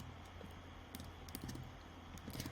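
Quick, uneven keystrokes tapped on a computer keyboard, close and fairly quiet, with small bursts of clicks and short pauses in between.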